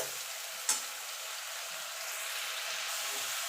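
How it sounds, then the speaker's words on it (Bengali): Onion paste frying in oil in a pan, a steady broad sizzle with one sharp spatter pop early on, close and continuous with no voices. "পেঁয়াজটা একটুখানি ভাজা ভাজা করে নেব।"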